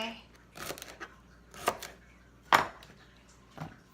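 A knife chops vegetables for gluten-free chicken stock on a board, a few separate sharp knocks spaced about a second apart, close and fairly quiet.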